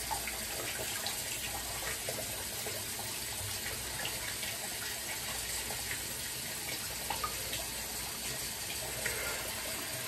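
A bathroom tap runs steadily while a shaving brush is rinsed under it, a continuous close hiss of flowing water with occasional small splashes and changes as the brush moves through the stream, no talking.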